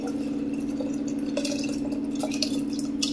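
Water pours and trickles into a pot of soaked rice for vegetable biryani, with drips and splashes over a steady background hum, close and moderately loud, no speech.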